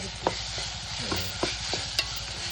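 Spices, including homemade chili powder, garam masala and goda masala, sizzle steadily in hot oil as tempering for a shrimp curry, with a constant loud hiss and periodic scraping knocks from stirring.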